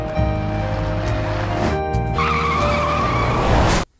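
A truck comes head-on with its tires skidding in a loud, sustained screech and engine roar that builds before cutting off abruptly near the end, with no voices.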